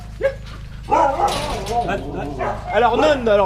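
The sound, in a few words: sled dogs barking, husky pack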